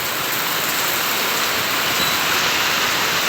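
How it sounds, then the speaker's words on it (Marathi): Steady rain pours outdoors during a windy storm in Gandhora, Tuljapur taluka, a dense, continuous hiss of loud broadband noise with no gaps and no voices. "सध्या लाईव्ह पाऊस चालू आहे"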